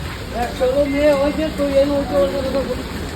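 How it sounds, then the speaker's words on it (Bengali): Steady rain pours at a metro station, a constant broadband hiss of falling water running throughout, with a voice speaking over it. "কি বৃষ্টিতে ফাঁসলাম আমরা"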